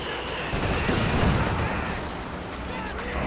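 Katyusha rocket artillery salvo firing in a Company of Heroes 2 battle, a dense, continuous roar of launches and blasts blended with steady battlefield noise at an even, moderately loud level.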